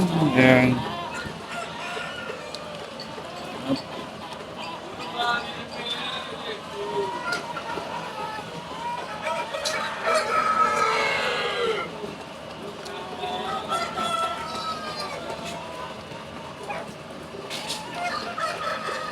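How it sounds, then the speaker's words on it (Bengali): Many hens cluck and squawk together in a crowded poultry shed with an egg-collecting belt, a steady busy clamor with a voice talking over it. "এই যে এগুলো হলো মুরগি।"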